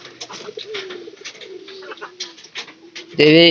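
Domestic pigeons in a loft coo softly and repeatedly at close range, a low burbling series ending in a sudden loud, harsh burst.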